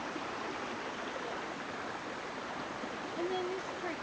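A clear creek on the Cawleys Road Trail in Garawarra State Conservation Area, flowing with a steady, even rushing hiss at moderate distance, faint and uninterrupted, with no talking.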